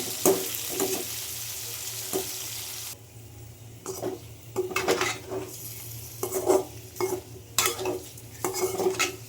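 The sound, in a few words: frying paneer gravy masala with chili powder and salt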